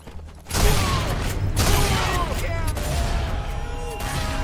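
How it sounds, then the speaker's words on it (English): Shotgun blasts in Sniper Elite 4, several heavy booms with mechanical clatter amid dense battle noise, loud and close after a quiet opening half-second. "Time for a shotgun."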